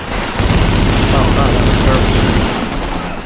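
Blind fire from cover in The Division game: a continuous loud burst of rapid automatic shots lasting a couple of seconds, tapering off at the end.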